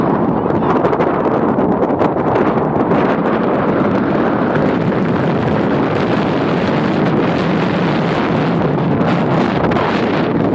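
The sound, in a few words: wind blowing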